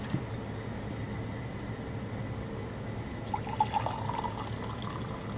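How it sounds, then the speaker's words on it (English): Hot coffee pouring into a cocktail glass over a splash of Frangelico, a soft trickling fill that rises into brighter splashy drips near the end, close and fairly quiet with low background hum. "And then we're going to add our hot coffee."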